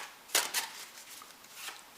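Tarot cards from the Divine deck shuffled by hand, two quick riffling bursts early on, then soft, scattered card rustles, close and fairly quiet with no talking.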